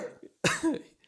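A person coughs hard after swallowing water the wrong way. One loud, rough burst of coughing stands close and alone, with quieter breathy sounds before it.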